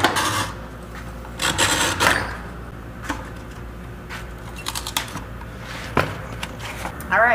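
A hand rasp files a notch into the wooden top of a cigar box for a cigar box guitar build. It makes short, scratchy rasping strokes in separate bursts, close up, with quieter handling noise between them.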